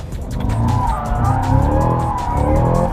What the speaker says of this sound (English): the extra weight of the Caddy definitely whips on you very quickly